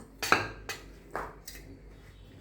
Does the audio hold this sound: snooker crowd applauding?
no